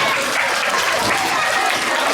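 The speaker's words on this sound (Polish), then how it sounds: "Brawa dla wszystkich wykonawców." Steady applause from an audience for all the performers at a preschool song festival in Oława, a dense, even wash of clapping sustained loudly throughout.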